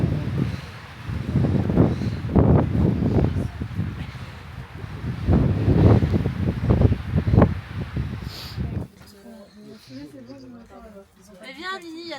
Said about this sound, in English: It's getting windier and colder.